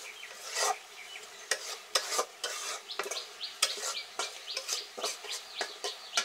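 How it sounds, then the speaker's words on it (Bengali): Soaked dried fish is sautéed in a pan, with quick, rhythmic scraping strokes of a spatula over a soft sizzle, fairly quiet and close, without speech. "শুটকিটা একটু ভালো করে কষাই নিই।"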